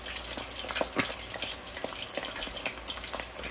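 Mustard-coated chicken drumsticks fry in hot oil in a pan, giving a steady dense sizzle and crackle with scattered louder pops throughout, close and alone without any talk.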